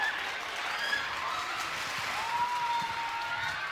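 Audience applause at a New Year all-star rock orchestra concert, a steady wash of clapping from a large crowd, moderately loud and unbroken throughout.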